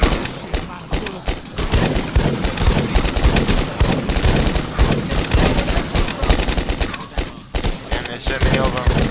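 Rapid automatic gunfire from the survival game Rust rattles almost nonstop, loud bursts and fusillades overlapping, with a voice occasionally under the shooting.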